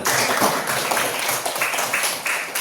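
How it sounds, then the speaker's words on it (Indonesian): Classroom clapping for a student, a dense burst of many hands applauding together, steady and moderately loud throughout with no talking over it. "Tepuk tangan buat Hilman."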